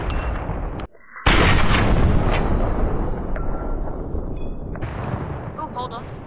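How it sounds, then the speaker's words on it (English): In the Fortnite video game, a cold beacon is blown up: a sudden loud, close blast with a long rumbling decay, followed by further game sounds and a voice talking. "I'm just gonna blow up all the cold beacon until you show yourself"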